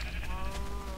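Sheep bleating in the Minecraft video game, a short steady wavering cry filling the moment alone at close, even loudness.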